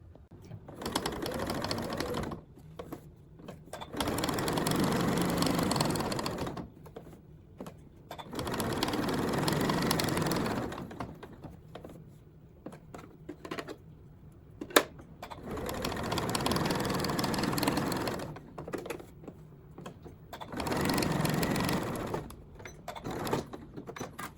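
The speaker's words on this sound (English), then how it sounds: "I could add some top stitching around this block" A sewing machine top stitching with coral thread around a fabric pin cushion block, running in several whirring bursts of a few seconds each, separated by pauses, close and clear.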